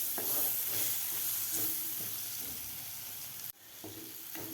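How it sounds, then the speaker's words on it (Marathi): A medium-sized tomato sizzles as it is sautéed in a pan with roasted besan, a steady frying hiss broken by the occasional scrape of stirring and a brief pause near the end. "टोमॅटोसुद्धा आपल्याला व्यवस्थित परतून घ्यायचं आहे."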